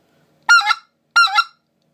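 Basin Calls Ricer specklebelly goose call blown in a tia hit, two crisp, loud, close two-note honks spaced about half a second apart with silence around them.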